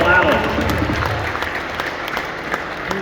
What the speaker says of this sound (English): A big round of applause for Gennari and Joel Allen.